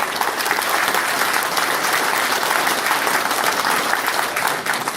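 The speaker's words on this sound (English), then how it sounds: "Let's give a round of applause for our military." Forum audience at an amateur radio convention giving a loud, sustained ovation for the military, thick continuous clapping from many hands at an even level.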